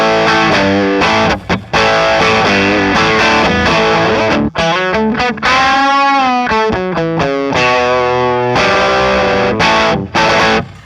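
Electric guitar through a Pettyjohn Electronics Iron MkII Deluxe overdrive pedal playing a loud, gritty riff with sustained chords and a bending, wavering note in the middle, with brief choppy breaks between phrases.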